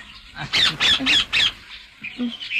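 A fortune-telling parrot lets out a run of four sharp, raspy squawks in quick succession, close and loud, followed by a few softer calls as a voice murmurs nearby.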